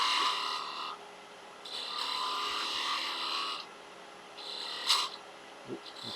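A skew chisel cuts wood on a lathe while turning small Christmas tree decorations, giving steady raspy scraping passes that start and stop, with a few brief louder knocks near the end.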